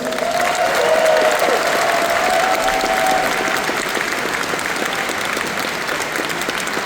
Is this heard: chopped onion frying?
no